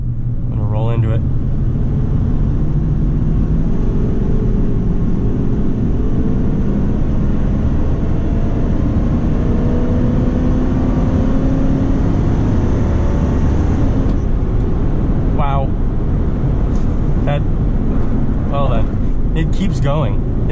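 A 1997 Ford Expedition XLT Eddie Bauer Edition engine drones steadily under acceleration, a loud continuous rumble with road noise, while someone talks over it.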